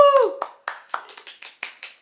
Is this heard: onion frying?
no